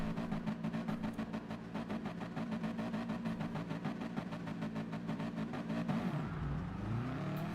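Racing car engines rev together on the grid at a race start. A loud, dense, buzzing roar holds steady, then its pitch drops and shifts near the end as the cars pull away.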